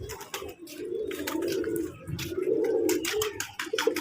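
Pigeons at a farm coo in soft, rolling, overlapping calls, close and continuous, with no one speaking.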